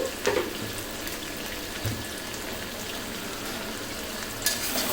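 Biryani in a pan sizzles softly as sugar is stirred in, a low continuous fry with occasional scraping clinks of the utensil, fairly quiet and close without speech.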